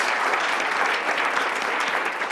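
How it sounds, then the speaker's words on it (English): Audience at a school board business meeting applauding a long-serving teacher, with dense, sustained clapping from many people that stays steady and full throughout. "that deserves a big round of applause"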